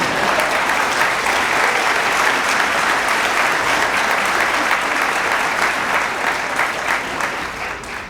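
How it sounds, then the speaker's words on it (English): An audience applauding at a presidential inauguration in Nebraska, dense sustained clapping from a large crowd that holds steady and then begins to taper off near the end. "And you can applaud."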